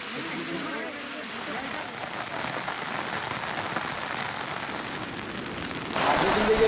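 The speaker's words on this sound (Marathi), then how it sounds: "विदर्भाला पावसाने चांगलं झोडपून काढलेलं आहे" Heavy monsoon rain in Vidarbha, Maharashtra, during flooding pours down in a dense, steady hiss across the whole stretch, swelling noticeably louder in the final moments.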